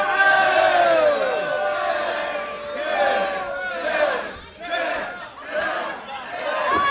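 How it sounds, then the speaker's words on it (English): A wrestling crowd at an independent match chanting a rhythmic three-beat count, the massed voices rising and falling in repeated waves and filling a large room. "Very half-hearted 10-10-10 from the crowd when VSK does it."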